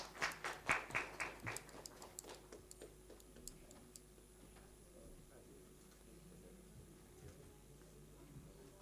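An audience at a global ESG summit claps for a speaker, with a few sharp opening claps thinning into scattered, fading patter that gives way to quiet room noise.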